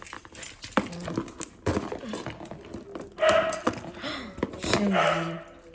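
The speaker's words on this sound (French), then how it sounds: "Elle aboie tout le temps sur le micro-ondes." A dog waiting by a microwave for food barks and yelps in short, excited bursts, close by, mixed with clattering and shuffling noises and some whining tones.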